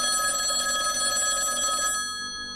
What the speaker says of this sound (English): I would say it was around 8:30 when the phone rang